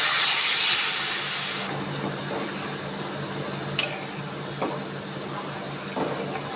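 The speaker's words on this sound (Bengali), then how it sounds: "আমার বৌমা নারকেলের দুধ করে রেখেছে, আমি সেই নারকেলের দুধটা দিয়ে দিচ্ছি" Coconut milk hits a hot cooking pan for a lychee sour chutney, bursting into a loud hiss that lasts under two seconds, then fades to quiet with a few faint clicks and knocks.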